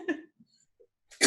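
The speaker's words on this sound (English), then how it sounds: "I want you all to hear my coughing, of course." A single short cough or throat clearing opens, followed by faint small breaths and mouth noises, then a louder burst of coughing at the end, close and otherwise quiet.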